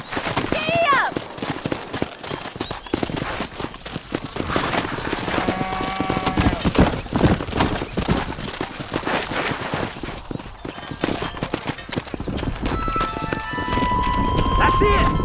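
Horse hooves galloping in Red Dead Redemption, a steady rapid clip-clop running under voices and game noise, with shots and other effects mixed in.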